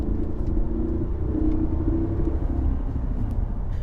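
A 2007 Mercedes S550 V8 engine rumbling low and steady under acceleration, a droning tone that rises gently as the vehicle pulls after a delayed transmission kickdown, heard from inside the cabin.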